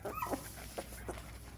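Four-week-old puppies yip and whimper in short, faint bursts during weighing, several thin cries spaced irregularly over quiet indoor background.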